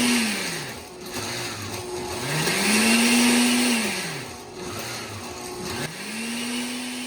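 A kitchen blender on its margarita frozen-drink setting purees chopped chili sauce, its motor whining loudly and repeatedly rising and falling in pitch in cyclic surges as the blades churn.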